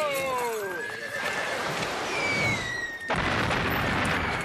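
A horse neighs loudly with high, wavering whinnies, then a second shrill whinny follows against a busy, noisy background.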